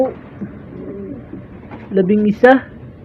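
Homing pigeons cooing nearby as they return to the loft, soft low coos rising into a louder burst near the end, with a person talking at times.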